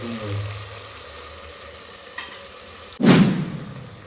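Sliced onion and garlic paste frying in a pan for Gujarati pulav give a steady, close sizzle, then a spoon stirs them and a louder burst of crackling swells up.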